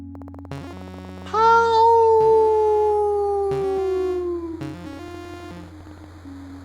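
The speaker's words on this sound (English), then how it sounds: "Bark!" Cartoonish dog howl from the video game You Will (Not) Remain, a long sliding tonal wail over a looping electronic game soundtrack with short blips, clear and fairly loud.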